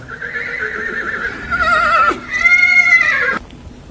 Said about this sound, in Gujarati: બહુ વછેરો સારો છે, મારવાડી